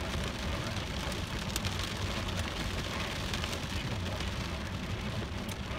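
Steady rain from a hailstorm falls on a surface, a continuous even hiss with scattered sharper ticks of drops or hailstones, constant in level throughout.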